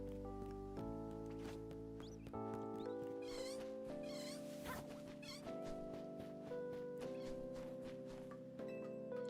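A pet cat meows several times over steady sustained background tones, with drawn-out cries close by and no talk.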